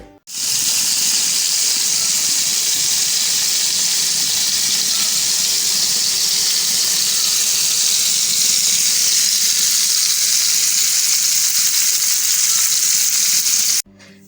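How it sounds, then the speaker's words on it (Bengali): Shrimp coated with turmeric, chili and salt fry in hot oil, giving a loud, continuous close sizzle and crackle that holds steady for the whole stretch before stopping abruptly. "সামান্য হলুদ গুঁড়া সামান্য মরিচ গুঁড়া আর লবণ মেখে এখন তেলে ভেজে নিব এই চিংড়ি মাছগুলো"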